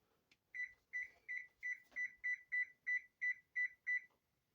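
Eleven short electronic beeps from an oven timer in a steady, evenly spaced series, clear and moderately loud against a quiet background.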